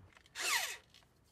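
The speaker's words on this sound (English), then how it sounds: "so now I need another drill." A power drill whirs up in one short, loud burst, its pitch sliding as it spins, then cuts off.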